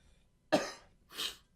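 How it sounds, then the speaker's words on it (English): Two close coughs, a sharp one followed by a softer, breathier one, then a brief click, in a quiet room. "Sorry, I'm coughing so much."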